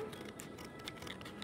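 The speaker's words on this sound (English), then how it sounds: "So let's cut this open." Scissors snipping open a plastic bag package, a quiet run of small close cuts and crinkles, faint and steady.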